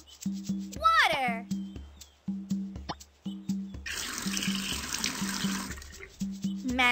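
Water pours steadily onto magic seeds in a cartoon garden, a broad rushing splash lasting a few seconds between bursts of childlike speech and a repeating musical figure.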